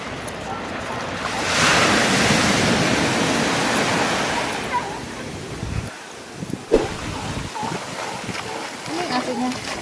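Ocean waves crash and wash onto the shore at a Santa Cruz, California beach, a loud roaring surge that slowly ebbs under gusty wind noise, with brief voices and bumps near the microphone toward the end.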